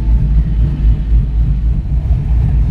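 A 1968 TCI step-side truck with a 5.7 LS1 engine and 700R4 transmission rumbles steadily at an autocross event at Texas Motor Speedway, a deep, loud, continuous engine drone with no voices.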